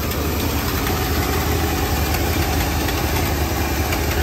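A 1975 Lincoln Continental engine idles steadily on a newly installed fuel tank, a close, even low rumble with constant vibration and no talking.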